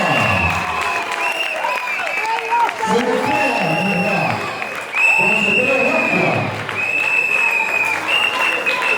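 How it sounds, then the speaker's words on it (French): A wedding crowd applauds loudly and steadily while voices talk and call out in French over the clapping. "Est-ce qu'on peut applaudir quand même pour ses papas? Applaudissez un petit peu."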